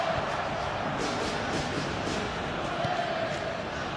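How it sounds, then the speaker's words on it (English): Indonesian fans in a football stadium crowd roar and cheer in a dense, steady wall of noise, with a commentator's voice faintly over it. "that's woken up the Indonesian fans here in the crowd"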